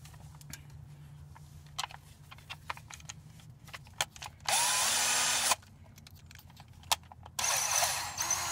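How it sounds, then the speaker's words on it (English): A power drill bores out an old rivet inside the door of an OBS GM Chevy pickup, two loud sustained bursts of about a second each, separated by quieter clicks and tapping of handling. "we're going to have to drill the existing rivet from the last time I did this repair out."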